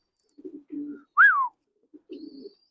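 Racing pigeons coo close by, with a few low soft murmuring coos around one brighter rising-then-falling call, separated by short silences.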